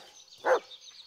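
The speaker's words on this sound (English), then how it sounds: "Okay, are you barking at the back of the car?" A single short dog bark in the video game Blair Witch, heard once at moderate distance over faint ambient forest hum.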